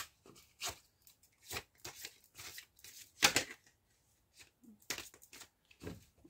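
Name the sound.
cutting a deck of tarot cards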